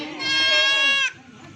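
A Rajanpuri Ablak goat gives one loud, close, drawn-out bleat lasting about a second, clear and strained, before it cuts off into quiet background.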